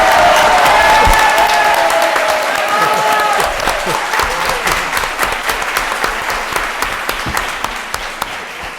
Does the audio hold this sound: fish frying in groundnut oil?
no